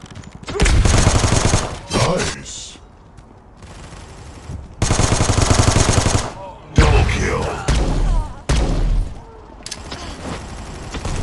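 Dense automatic gunfire from the mobile shooter Guns of Boom, with loud sustained bursts broken by short pauses over about eleven seconds, plus brief game sound cues between the volleys.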